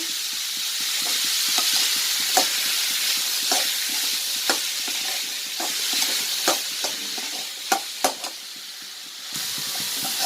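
Beetroot thoran with green chillies is stirred in a pan, giving a steady sizzle with repeated sharp scrapes and clicks of a spoon against the pan.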